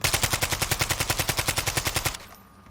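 Rapid automatic gunfire from a suppressed zero-recoil gun in Call of Duty Warzone 3, a loud, evenly spaced burst of about two dozen shots that cuts off sharply, leaving a faint tail.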